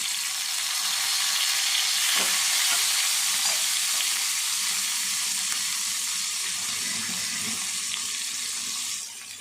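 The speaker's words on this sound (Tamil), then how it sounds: "இப்போ நம்ம கவுளி அரிசிக்கு நம்ம என்ன பண்ண போகிறோம்னா கொஞ்சம் வெங்காயம் போட போகிறோம்" Onion sizzles and fries steadily in a hot pan of oil in a home kitchen, a dense, even crackle that holds for the whole stretch with a few faint stirring knocks.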